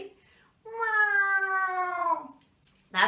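A person imitates a cat's meow, one long drawn-out vocal meow with a falling pitch, loud and close, followed by the start of another voice at the end.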